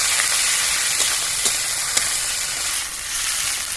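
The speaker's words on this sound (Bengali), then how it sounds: "এবার আমি টমেটো দিয়ে দেবো কাঁচা লঙ্কা আর আদা বাটা দিয়ে দেবো হালকা ভেজে নেবো তেলে" Tomato, green chili and ginger paste fry in hot oil with a loud, continuous close sizzle, broken by a few faint ticks of stirring.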